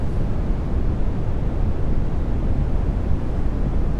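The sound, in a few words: ocean waves rocking a ship in the NAUTIS ship simulator video game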